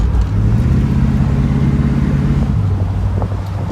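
A 1958 Ford Thunderbird cruises along the road, its low engine rumble and tire roar steady and close, mixed with rushing wind noise.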